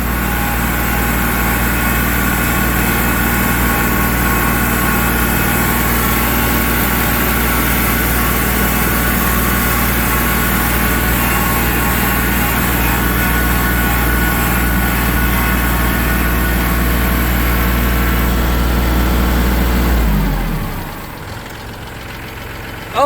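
A tractor engine idles steadily and loudly close by with a low rumbling drone, then cuts off near the end, leaving quiet.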